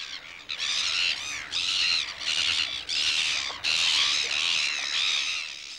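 Black-billed gulls squawking continuously at a nesting colony in New Zealand, overlapping harsh calls, a busy colony chorus with brief pauses, fairly close and loud.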